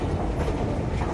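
Inside Zwolle train station in the Netherlands, a train rumbles steadily past, with continuous low rail noise and faint clickety-clack filling the whole short stretch at moderate loudness.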